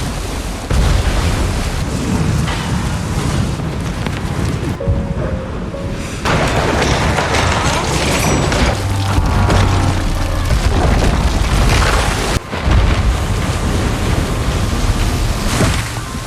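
Loud, constant roar of storm wind and crashing surf, with deep booming rumbles throughout and no pause.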